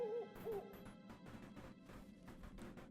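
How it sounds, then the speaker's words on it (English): An owl hoots in a Star Wars Rebels episode, two wavering calls at the start set against a rumbling score and thudding impacts. "Ah. The owl."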